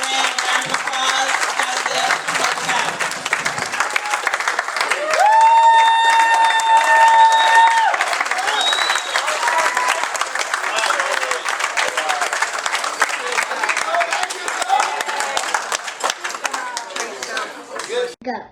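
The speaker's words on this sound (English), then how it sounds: "Let's give our 2013 Black History Youth Program a round of applause." An audience at a Black History youth program bursts into sustained, loud applause and clapping that fills the room, with a swell of crowd noise partway through and voices mixed in.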